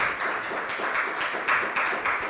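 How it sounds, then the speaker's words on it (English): The audience at a Berlin RChain meetup gives speaker Udo a round of applause after his talk and Q&A, a moderate, steady patter of clapping from a small room with a gently pulsing rhythm. "give a big applause to Udo"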